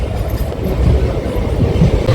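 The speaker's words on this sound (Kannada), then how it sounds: "train speed ಹೋಗಾಕತ್ತೈತಿ" A train rumbles steadily along the tracks, a continuous low roar with faint rhythmic rattling, close and fairly loud, with no voices.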